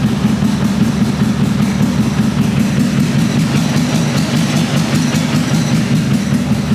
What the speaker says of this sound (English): it basically like jumps around and just kind of lopey like a V8